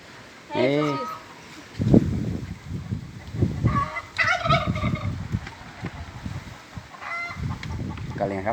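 A turkey gobbles in rapid warbling bursts on a farm where honey frames are being handled, the calls recurring between stretches of people talking nearby.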